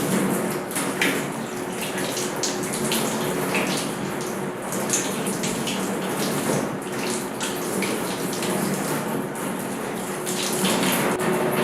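Water from a tap runs steadily and close by while the left arm is washed during wudu, a constant splashing rush with no voices.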